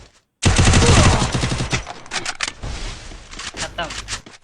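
Rapid bursts of automatic gunfire in the video game Free Fire open loud and dense, then break into scattered shots, with a voice talking over part of it.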